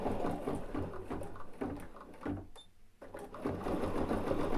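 An embroidery machine stitches a tack-down line, a steady fast mechanical chatter that runs almost throughout with one brief pause before resuming.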